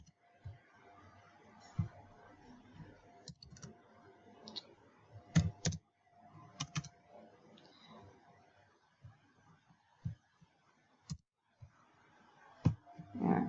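Sporadic clicks and taps of keys on a computer keyboard as numbers are entered, coming in short irregular clusters with quiet gaps between them, close and fairly soft.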